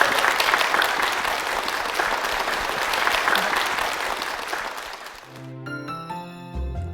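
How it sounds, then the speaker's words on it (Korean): Church congregation applauding two members at a Korean church service, a dense, steady round of clapping for about five seconds that then stops as music begins. "두 분께 축복의 박수 부탁드립니다."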